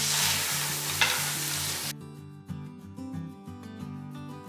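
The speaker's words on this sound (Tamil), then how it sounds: "போட்டு எல்லாத்தையும் ஒன்றா நல்லா வதக்கிடலாம்." Onions, tomatoes and green chillies sauté in a pan for mutton biryani, a loud steady sizzle with stirring, then a quieter crackle dotted with spoon scrapes.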